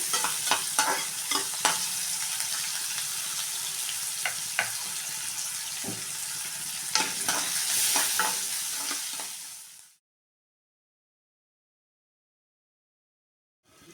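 Vegetables frying with salt in a pan, a dense close sizzle with frequent scraping stirs that runs for about ten seconds before cutting to silence, no talking.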